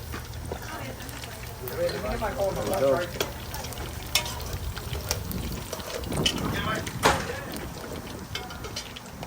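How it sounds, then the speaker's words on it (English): Food frying in hot oil at an outdoor Guyanese cookout, a steady sizzle with stirring scrapes and occasional clatter, heard under ongoing talk. "Don't want to fry it too much. Nice and golden brown."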